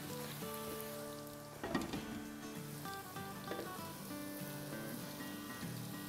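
Roti cooking in oil in a covered pan gives a steady, quiet sizzling hiss throughout, with a slightly louder crackle burst partway through.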